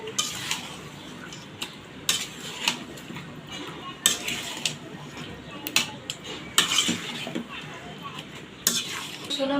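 Meat stirred with spices in a home kitchen cooking pot: a spoon scrapes and clanks against the metal at irregular intervals over a steady low sizzle, with a faint voice in the background.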